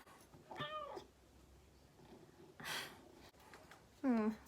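A talkative house cat meows nearby in a few short, rising calls spread across a few seconds, the last one loudest, over a quiet room with faint breathing-like noise between.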